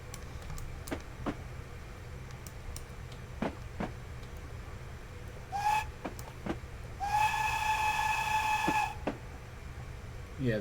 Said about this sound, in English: the whistle is a bit meh as well.